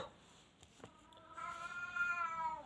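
A cat gives a short, rising meow close by, preceded by a couple of soft clicks in an otherwise quiet room.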